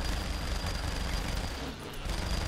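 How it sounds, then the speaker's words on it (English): A minigun fires in Saints Row: The Third as one continuous roaring burst that fills the whole stretch. It dips briefly near the end, then resumes at full loudness. "I have a mini gun."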